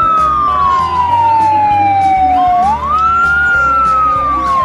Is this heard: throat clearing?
no